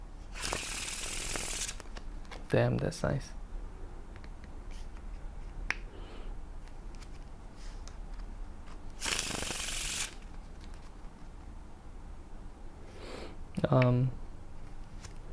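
A deck of cards is worked through Faro shuffles, with two long, bright riffling bursts separated by quieter card handling and a few sharp snaps. Someone briefly speaks partway through.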